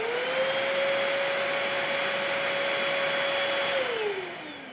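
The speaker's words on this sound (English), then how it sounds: "You press down on the button and it'll turn the vacuum on." A Bissell Featherweight vacuum cleaner runs loud and close with a steady high-pitched motor whine and broad airflow hiss, then winds down in pitch near the end as it is switched off.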